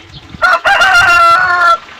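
A rooster crows loudly and close by in one long, strained call with a stuttering start, standing alone with nothing else around it.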